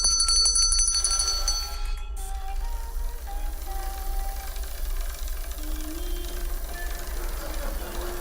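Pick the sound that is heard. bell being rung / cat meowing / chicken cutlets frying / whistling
bell being rung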